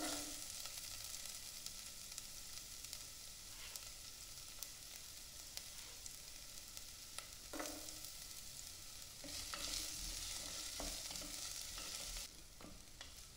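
Garlic and carrot fry in a pan for ramen, a constant hiss of sizzling oil with occasional stirring scrapes and small clatters, close and fairly quiet, no voices.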